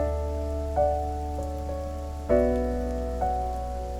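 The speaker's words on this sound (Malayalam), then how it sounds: "പുറത്ത് നല്ല മഴയല്ലേ." Heavy rain outside makes a steady, low wash of noise, with soft piano-like chords struck over it at intervals.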